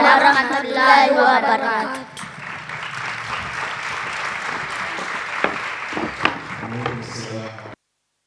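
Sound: audience applause at jalsa

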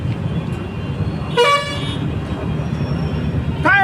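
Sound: traffic with car horns honking

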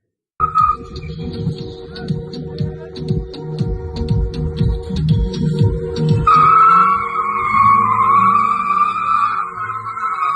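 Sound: rented cars drifting, tires skidding

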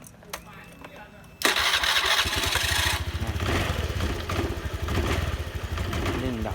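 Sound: Honda Click 110i motorcycle engine revving and stalling

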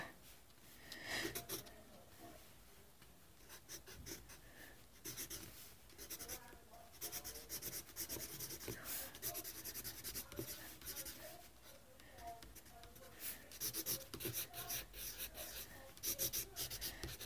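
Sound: writing "bad time" on a Sans drawing

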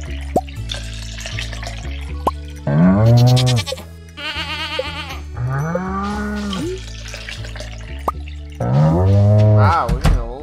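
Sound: cow mooing and goat bleating in Stardew Valley video game

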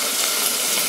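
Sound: sliced onions frying in oil

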